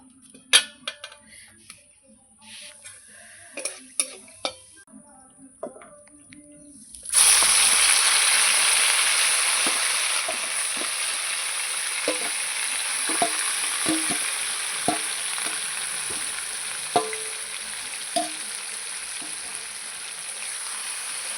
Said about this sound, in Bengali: দিয়ে ভালো করে নাড়িয়ে নেব এবার মাংসটাকে আমি ভালো করে কষাতে থাকবো